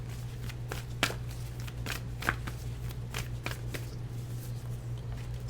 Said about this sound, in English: I'm going to shuffle from this one.